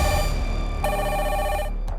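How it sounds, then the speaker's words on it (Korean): A telephone rings loudly and close, a bright continuous electronic trill filling the two seconds and cutting off abruptly at the end, with no voices. "전화 한 통이 걸려."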